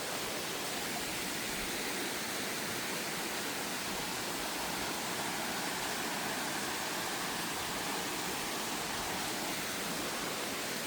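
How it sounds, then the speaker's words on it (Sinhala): A forest stream in the Peak Wilderness sanctuary flows steadily, giving a constant, even rush of water that stays unbroken throughout with no voices or other sounds. "අපි ටිකක් ඉස්සරහට එනකොට හම්බුණා මේ වගේ ලස්සන දිය පාරක්"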